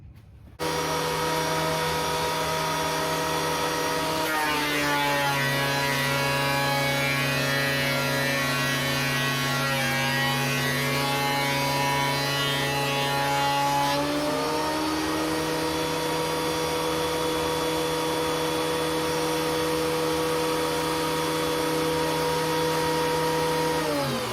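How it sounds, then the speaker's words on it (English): A thickness planer feeds a wooden board, giving a loud continuous motor whine with a bright tonal hum. The pitch sags while the board passes through, then recovers and holds steady for over twenty seconds. "Now I'm going to run it through the thickness planer to get it to its final thickness."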